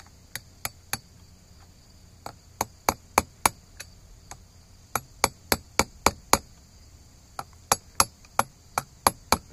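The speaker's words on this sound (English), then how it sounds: "I can kind of get a hammer on there." Sharp metallic hammer blows strike a wheel bearing on an IH Hydro 84 tractor, about thirty crisp, close impacts in quick bursts with short pauses between groups, over a faint high steady hiss.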